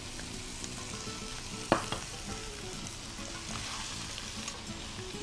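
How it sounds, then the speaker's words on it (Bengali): Raw jackfruit and boiled minced beef fry in a pan, giving a steady, close sizzle with faint stirring scrapes and one sharp clack partway through, with no talking. "এটা একটু ভাজা ভাজা হবে,"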